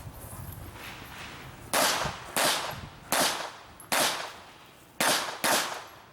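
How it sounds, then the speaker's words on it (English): Six loud, sharp gunshots from a pistol caliber carbine at an IDPA shooting match at Mecklenburg Wildlife Club, fired in an uneven string with brief echoing decay after each crack. "This gentleman is shooting a pistol caliber carbine, or PCC division."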